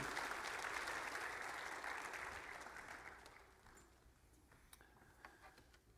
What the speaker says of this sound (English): I'm going to invite Natalie up here. Give her a round of applause.